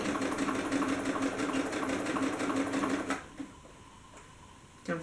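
A sewing machine hums steadily while stitching paperbag pants along a curve, then stops after about three seconds, leaving quiet handling noise and a brief click at the end.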